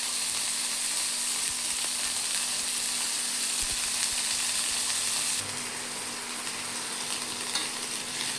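Turkey berries fry in oil in a pan, a steady close sizzle with broadband hiss and occasional stirring clicks, slightly quieter in the final seconds, no voices.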